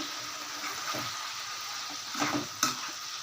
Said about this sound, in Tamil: கொஞ்சமாக புளி கரைச்சி இதில் ஊற்றிடுங்க